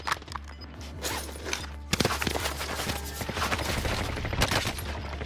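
Dense bursts of gunfire in the Call of Duty Warzone video game come as rapid overlapping cracks and volleys, loud and continuous across the whole stretch.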